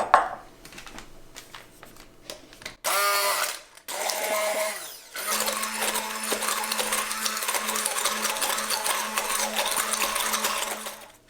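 A kitchen blender blitzes a chipotle and vinegar mixture for a chicken wing sauce, starting in short loud bursts before settling into a steady, close whirring grind that runs to the end.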